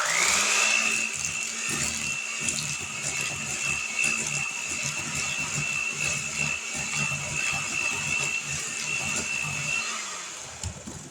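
An electric mixer whirs steadily through oatmeal raisin cookie batter for about ten seconds, a constant high motor whine with slight wobbling strain, close and alone, then winding down at the end.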